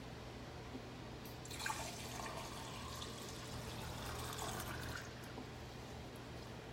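Filtered water poured into a glass makes a soft, fairly faint trickling splash that starts after a quiet moment and runs for a few seconds over a low steady hum before trailing off.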